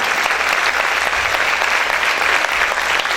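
Church congregation clapping loudly for the Lord, a thick continuous roar of many hands at even volume from start to finish, with no pauses.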